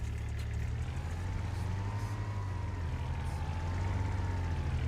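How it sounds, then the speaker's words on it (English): Small farm vehicle in a farming video game, its engine chugging steadily like a tractor with a continuous low rumble and droning tone, loud and alone throughout. "Still sounds like a tractor."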